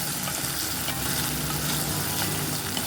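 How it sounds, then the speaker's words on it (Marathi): Finely chopped onion and tomato sizzle and crackle steadily in a hot pan while being stirred for a hotel-style sev bhaji, a dense continuous frying hiss close up, with no voices. "एक बारीक चिरलेला टोमॅटो घालून घेणार आहे, ते पण आपल्याला छान असं शिजून द्यायचं आहे"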